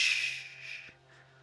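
Breathy, airy texture from the Media Toolkit, a short soft whoosh of moving air that fades over about a second, heard alone.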